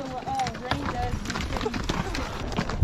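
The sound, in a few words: horse hooves clip-clopping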